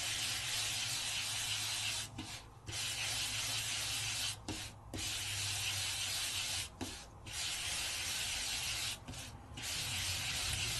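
Sanding block rubbing steadily across raised lines of a die-cut card butterfly piece with a light touch, a continuous close scratchy hiss in four long passes broken by brief pauses.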